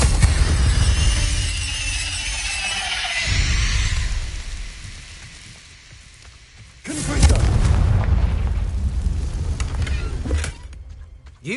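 A fiery spell blast in the Hogwarts Legacy video game, a loud booming burst with crackling roar that fades and then erupts again in a second heavy rumbling explosion.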